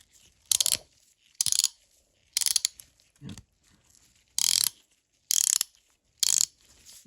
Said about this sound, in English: Then you see if it's ratcheting.